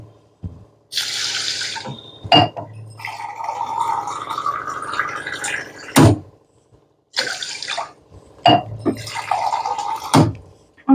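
Water from a tap pours into a pot of washed rice for cooking, several running bursts separated by short pauses, with clunks and splashes of the pot being handled nearby.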